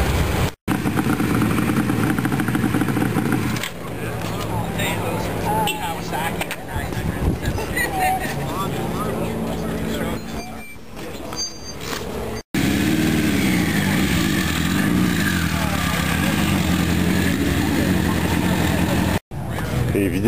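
Motorcycles at a motorcycle meeting in California, their engines rumbling and revving steadily nearby for most of the stretch, with brief breaks and a mix of machines blending into a continuous mechanical roar.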